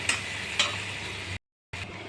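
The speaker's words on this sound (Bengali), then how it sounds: "এটাও লাল করে আমি ভালো করে ভেজে নেব" Pointed gourd (potol) fries in a pan with a continuous close sizzle and two brief stirring scrapes, broken by a short silent gap before the frying resumes.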